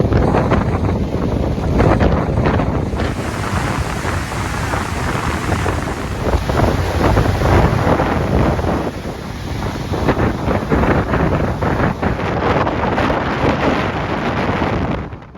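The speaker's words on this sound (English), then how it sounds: "And it's so windy out here." Strong wind of about 50 mph in Iceland buffets the microphone in loud, continuous roaring gusts, with a rushing, rumbling texture that barely lets up throughout.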